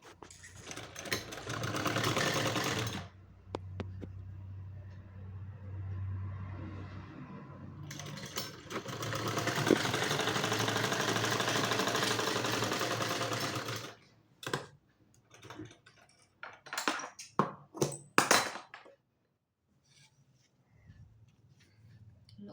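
Motor-driven sewing machine stitching a suit, a steady whirring run of a few seconds, then a longer sustained run, followed by short stop-start bursts and clicks at close range with no talk.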